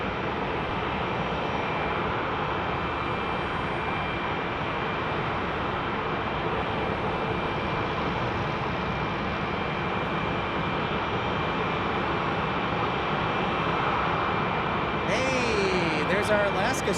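Alaska Airlines jet in a special livery taxiing at Phoenix Sky Harbor, a constant dense engine hiss and rumble at steady loudness, with a brief rising whine and a voice near the end.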